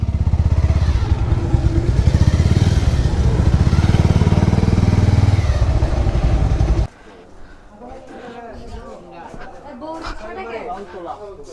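Motorcycles are moved and parked outside a shop, a loud, steady engine roar with clattering running for about seven seconds before dropping away, leaving quieter voices talking nearby.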